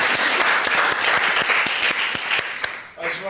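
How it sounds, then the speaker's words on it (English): A live audience at a teen panel event on getting around Dunedin bursts into sustained applause, a dense wash of many hands clapping near and loud that fades out over about three seconds. "Let's give everyone one last big round of applause."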